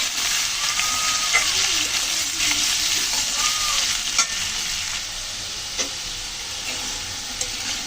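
Cut potatoes dusted with turmeric fry in hot oil with a loud, continuous crackling sizzle, joined by occasional scraping stirs.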